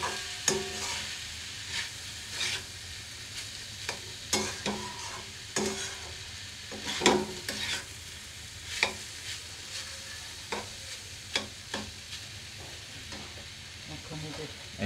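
Finely chopped meat fried in a pan, with intermittent sharp scraping stirs over a steady soft sizzle, close and moderately quiet, with no voices.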